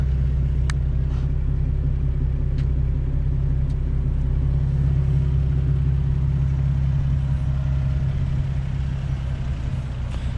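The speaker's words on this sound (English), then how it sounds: "I gotta fix the exhaust. There's a leak on it, so it sounds a little weird" Infiniti G35 idling with a leaking exhaust that is too loud, a steady low droning rumble held close and loud throughout with a few faint ticks above it.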